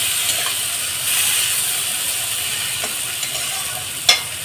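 Spice paste of ground cumin, coriander and black pepper sautéing in a pan, a soft continuous sizzle with scraping stirs and a sharp utensil knock near the end, close and without talk.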